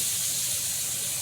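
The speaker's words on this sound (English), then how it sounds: "Frying some fish, y'all. Frying the fish" Fish frying in hot oil outdoors gives off a dense, steady sizzling hiss, loud and close throughout a brief moment with no talking.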